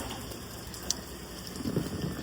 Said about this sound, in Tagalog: So, kahit na umuulan, yan, pwede tayo pumunta dito.